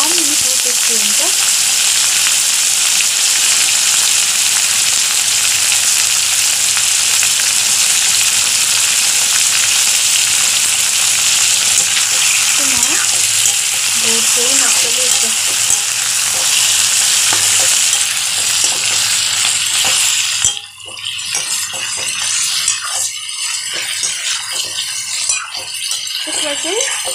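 Chicken with garlic and soybean frying in an uncovered pan gives a steady, loud, close sizzle with occasional stirring rattles. The sizzle thins briefly near the end, then carries on.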